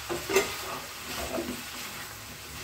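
Chopped medium ridge gourd hits hot oil and is stirred in a pan for a catering-style dish, giving a soft, steady sizzle broken by a couple of stirring scrapes, close and fairly quiet.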